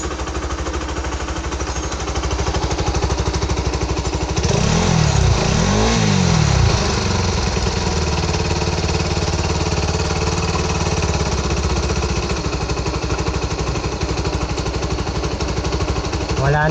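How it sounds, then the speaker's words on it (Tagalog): A motorcycle engine with a leaking exhaust runs loudly and steadily, with a couple of revs early on and a raspy, sputtering exhaust note throughout. "kaso singaw yung tambutso"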